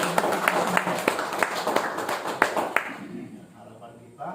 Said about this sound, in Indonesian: mari kita berikan tepuk tangan untuk Pak Muji